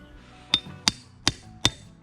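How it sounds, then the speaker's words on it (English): A hammer strikes a plugging chisel to rake out patio mortar joints, four sharp metallic blows spaced evenly about a third of a second apart, close and distinct. "You can use a combination of the pick and hammer and the plug and chisel."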